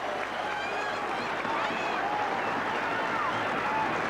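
At a Maesteg versus NZ Maoris rugby match, the stadium crowd roars and applauds after a kick goes through the posts, a broad, steady wash of distant cheering with a commentator talking over it.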